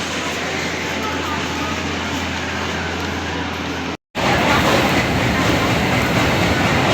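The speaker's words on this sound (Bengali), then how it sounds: "ট্রেনটা একটু লেট চলছে, 10 মিনিট মতো লেটে ঢুকবে বলছে" A train rumbles and rattles steadily at a station in India, loud and continuous, with a brief cut midway before the heavy clatter resumes.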